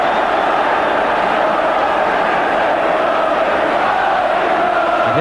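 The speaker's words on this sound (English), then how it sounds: "just listen now to this Old Trafford crowd" A packed Old Trafford football crowd roars continuously at Manchester United's home ground after Paul McGrath's equaliser against Liverpool, a loud, dense wall of cheering that holds steady throughout.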